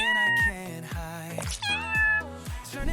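A cat meows repeatedly, about five clear, close, mid-pitched calls in quick succession with short gaps between them, heard alone.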